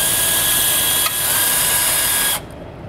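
A power drill runs steadily at high speed, driving self-tapping screws into sturdy steel, the whine shifting pitch midway as the screw bites before the motor stops abruptly; no voices.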